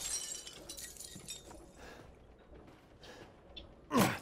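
Objects being slashed and smashed in the horror video game Resident Evil Village: soft scattered knocks and rustles, then one sharp, loud glass-shattering crash near the end.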